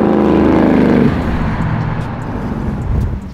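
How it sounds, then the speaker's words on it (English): A custom 1964 Impala SS convertible on air suspension pulls away, its engine rumbling loud and close before settling into a lower, steady drone as it drives off. "Car does get up and go a little bit."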